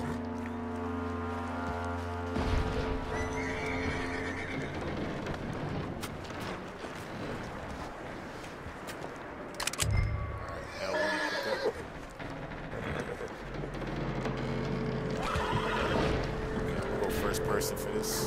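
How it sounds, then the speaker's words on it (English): Horse whinnying loudly with hoof clip-clop in Red Dead Redemption 2, set against game music and ambient noise, with a sharp neigh near the middle. "Beautiful horse."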